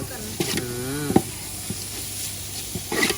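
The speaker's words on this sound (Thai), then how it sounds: "แต่นี่เขาต้องเอาเนื้อมาลวนก่อนนะครับ ให้เนื้อมันพอ สุกนิดนึง" Beef stir-fried in a pan as the first step of a Thai jungle curry sizzles with a steady low hiss and occasional stirring clatter, with a voice speaking briefly.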